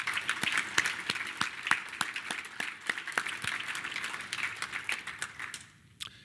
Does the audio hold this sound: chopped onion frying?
no